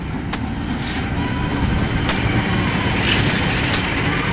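KRL commuter train pulling into Gang Sentiong station, a steady broadband rumble of wheels and motors holding at constant loudness, with a few brief sharp clanks over the drone.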